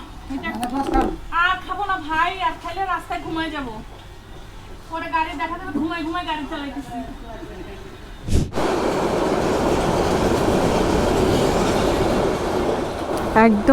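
A train running on the railway during a journey from Bogura to Dhaka; voices are heard first, then a sudden loud, steady rolling rumble of the train takes over and continues to the end.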